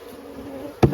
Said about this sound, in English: I could just kind of shake the bees.